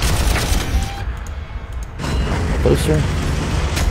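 Artillery and gunfire in the Warhammer 40,000 Armageddon strategy game, a dense rumble of distant booms and shots that runs continuously under a man's brief speech.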